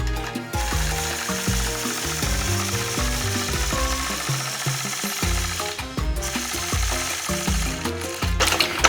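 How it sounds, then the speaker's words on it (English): A Gammill 22-inch longarm quilting machine stitches steadily with a dense rapid mechanical chatter and shifting motor tones, close and continuous without talk. "I'm quilting on my Gammill 22-inch machine"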